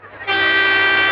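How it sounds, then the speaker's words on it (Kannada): An arriving train blasts its horn loud and near, a sustained tonal blare that swells in after a brief rumble and holds steady for about a second. "ಟ್ರೈನ್ ಬಂತು"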